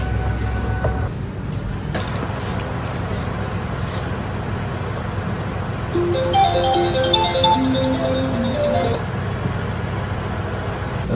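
A phone rings with a bright electronic tone pattern repeating for a few seconds over a steady background hum, with faint voices around it.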